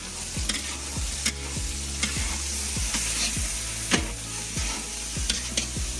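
An ostrich egg fries in a large pan with a steady close sizzle, while a utensil scrapes and stirs in a regular rhythm roughly twice a second.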